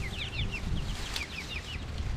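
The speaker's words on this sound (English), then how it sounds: "There's a chicken, I see." Chickens on a permaculture homestead cluck in short repeated bursts, close by and fairly steady over a low outdoor rumble, with no talking.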